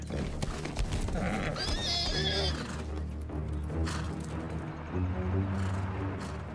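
A male horse advancing toward a mare to mate lets out a loud, wavering whinny, followed by snorts and shuffling hoof sounds close by.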